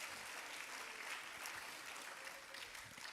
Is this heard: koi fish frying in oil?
no